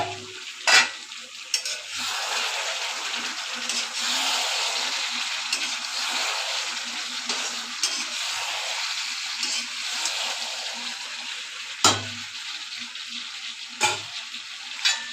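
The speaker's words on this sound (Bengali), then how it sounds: "এবার আলুগুলো দিয়ে আবার ভালোভাবে কষিয়ে নেব" Chicken and potatoes sizzling as they are stir-fried in a pan, with a constant frying hiss broken by occasional sharp scrapes and knocks of the spatula.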